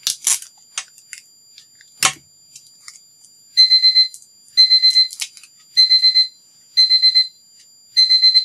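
A digital timer alarm beeps in five evenly spaced bursts of rapid high-pitched pips, loud and close, after a few scattered clicks and taps in an otherwise quiet room.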